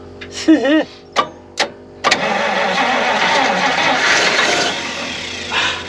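A 6-volt Pontiac straight-eight, unrun for 51 years, cranks in short bursts, then catches at about two seconds and settles into a steady, rough idle close by, with a voice briefly over the first cranks.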